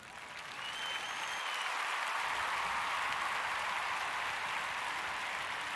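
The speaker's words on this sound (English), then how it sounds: "Give it a clap" Audience applause at a talk on relationships during reentry, swelling within the first second into steady, dense clapping that holds at an even level to the end, with no voices over it.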